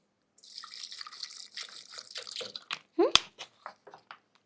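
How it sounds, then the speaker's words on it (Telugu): Water poured into a mixer jar while making a weight loss drink, heard as a short splashing trickle that rises in pitch as the jar fills, followed by a few scattered drips, fairly close and with no talking. "సో ఇందులో కొంచెం వాటర్ వేయండి"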